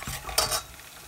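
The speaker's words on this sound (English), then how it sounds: "So we have the onions here frying in the palm oil." Onions sizzling in hot palm oil, with a brief stir and soft scrape of a utensil in the pan.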